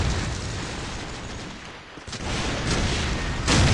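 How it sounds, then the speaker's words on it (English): Grenade blasts and gunfire in a Call of Duty 4 competitive finals match, with dense, rumbling low-end bursts sustained throughout and a fresh loud burst near the end. "I got a nade in mid."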